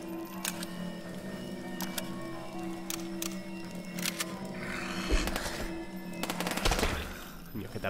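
Rapid bursts of weapon fire from the HellSign video game crack out in clusters over a steady droning background hum, with a louder volley near the end.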